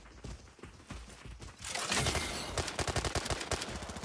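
Automatic gunfire in the shooter game Arena Breakout bursts out in rapid, loud volleys of cracking shots. Quieter handling and mechanical clicks come first, then the fire continues in dense bursts.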